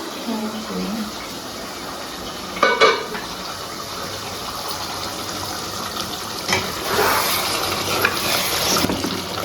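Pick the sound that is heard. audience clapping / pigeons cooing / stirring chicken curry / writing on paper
stirring chicken curry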